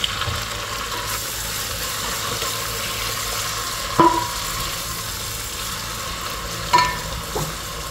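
Tomatoes sautéing in a pan for sinigang sa miso, a steady close sizzle with a couple of brief clinks of a utensil against the pan, no talk.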